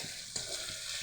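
Salt and cumin powder being stirred into food frying in a pan, a steady close sizzle with soft scraping strokes and no talk.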